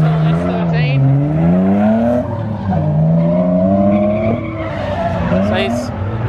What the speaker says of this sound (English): he's out here driving one of our cars